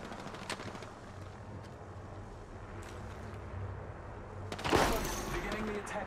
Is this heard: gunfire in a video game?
yes